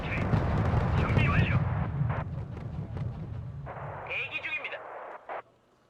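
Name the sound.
artillery fire in Wargame: Red Dragon video game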